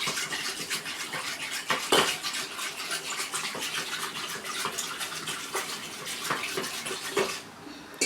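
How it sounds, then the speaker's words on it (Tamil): Buttermilk churned with salt and water, heard as a steady run of sloshing and rattling clatter with sharp knocks every so often, moderately close and free of talk. "போட்டுட்டு மறுபடியும் நல்லா கடைஞ்சிக்கலாம்."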